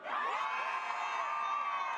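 A large festival crowd at a hip-hop concert screams and cheers loudly and continuously, a dense, sustained roar of high-pitched shrieks and whoops.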